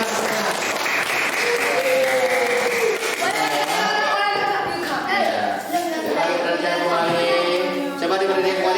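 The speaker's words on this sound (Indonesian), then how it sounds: "Ya, tepuk tangan dulu." A school class applauds during a science lesson on force and friction, a steady patter of clapping mixed with loud student voices and cheering over the top throughout.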